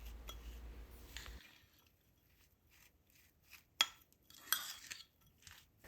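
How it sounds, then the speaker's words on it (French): Utensils clink and scrape against a bowl while ingredients for an instant tortellini dish are mixed together, producing sparse, irregular metallic taps with quiet pauses and a couple of sharper clanks. "Bien mélanger le tout."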